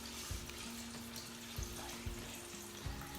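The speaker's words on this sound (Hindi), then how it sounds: "इसको अब हम डीप फ्राई करेंगे ताकि चिकन अच्छे से कुक हो जाए" Chicken deep frying in hot oil for a Zinger paratha roll, a steady broadband sizzle and bubbling throughout, with a few soft low thumps; close and moderately loud, no talking.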